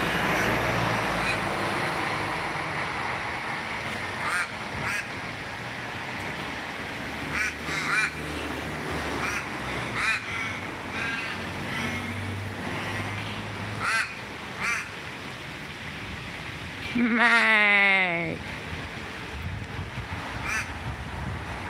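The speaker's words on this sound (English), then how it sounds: "when you hear the crows, you understand why we all say mate." Crows calling from trees near a fountain in Melbourne, a few harsh caws scattered through about twenty seconds over steady outdoor ambience and distant road traffic, with one louder, drawn-out call standing out near the end.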